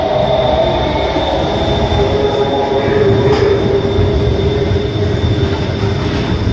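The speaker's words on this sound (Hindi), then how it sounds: "ये ट्रेन का झूला लेना है। देखिए आप, ये आ रही है अभी, ये झूला लेना है।" Miniature train ride at an amusement park in a birds park approaching with a steady loud rumble and rail noise, constant throughout without speech.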